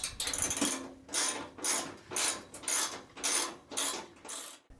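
A ratchet wrench tightens the mount on a Shopsmith accessory shelf, giving about seven rhythmic bursts of clicking, close and fairly loud, with no talking.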